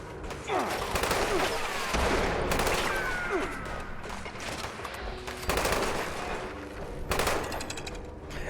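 Gunfire aimed at robots in Fallout 76 during a vault heist: rapid, sustained automatic shooting with dense bursts throughout, loud and continuous, with a voice faintly present beneath the fire.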